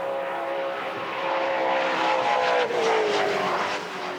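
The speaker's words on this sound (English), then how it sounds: "Just not your average Toyota 86 engine. Listen to this thing, the VK56 Nissan." A Nissan VK56 5.6-litre V8 fitted to a Toyota 86 time attack race car drones loudly, its steady engine note swelling and then dropping in pitch as it passes by.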